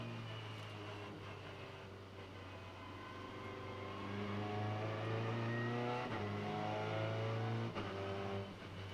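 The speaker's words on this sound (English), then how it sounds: "On board with James Nash." Onboard a race car in Macau qualifying, the engine roars loudly and continuously, climbing in pitch through the gears with brief dips at each shift, no voices over it.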